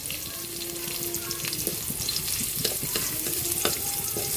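Chopped onions hit hot oil in a frying pan for a squid adobo, giving a loud steady sizzle with scattered crackles and a few stirring scrapes throughout, with no voices.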